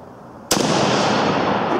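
8mm Mauser rifle shot fired at a steel target outdoors: one sharp, loud report followed by a long, sustained rumbling echo that does not fade.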